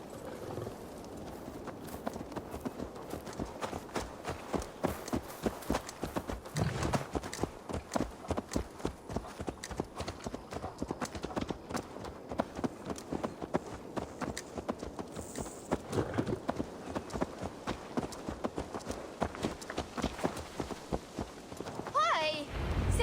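Horse hooves clip-clop steadily in Assassin's Creed Valhalla, a fast, even rhythm of close hoofbeats that runs throughout, with game voices and ambience layered underneath.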